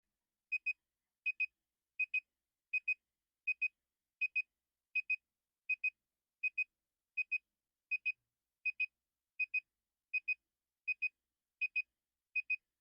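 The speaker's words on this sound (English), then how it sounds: "Make sure to count 20 beeps." Short high electronic beeps in quick pairs, repeating at a steady rhythm about every three-quarters of a second over silence, clear and close.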